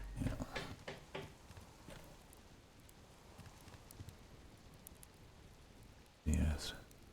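Rain patters softly and steadily in the Subsistence video game, with heavier clattering bursts at the start and near the end and someone talking faintly at times.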